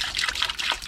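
Creek water trickles and burbles in quick, uneven bubbling spurts close by, brief and moderately loud, with no talking.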